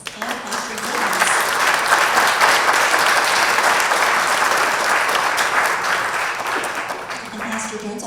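A loud, sustained round of applause from the audience at a Quincy mayoral debate held in the First Baptist Church, swelling quickly and holding dense clapping for several seconds before easing slightly.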